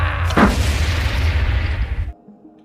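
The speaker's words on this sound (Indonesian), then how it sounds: "bom itu pun meledak di tangannya" A bomb bursts in a man's hand in a gangster film, a loud close boom with a sharp crack that fills the clip for about two seconds, then cuts off abruptly into near silence.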